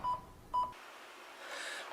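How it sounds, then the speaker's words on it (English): A pager beeper goes off in an animated superhero TV episode with two short electronic beeps about half a second apart, followed by a quiet hiss. "Thorne's beeper goes off"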